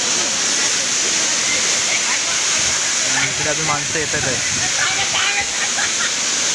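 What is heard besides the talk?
scenic waterfall at Chandranagar, Dapoli, Konkan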